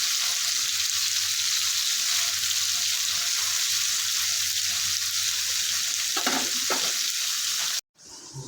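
Pieces of soft bele fish frying crisp in hot oil give a loud, continuous sizzle, close and steady, with a few stirring scrapes near the end before an abrupt cut.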